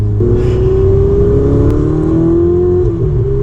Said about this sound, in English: It's a loud car. People will hear you coming.